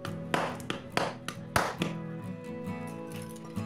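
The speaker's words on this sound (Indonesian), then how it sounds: "Maka kita akan coba pahat dengan menggunakan obeng biasanya ya" A regular screwdriver is struck like a chisel to loosen a stuck bolt on a small R175/R180 diesel engine during plunger removal, producing a string of sharp metallic taps and knocks at irregular intervals, close and fairly loud.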